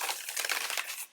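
Tarot cards shuffled by hand, a dense papery riffling and crinkling that runs steadily for about a second before cutting off, close and fairly quiet with no talk.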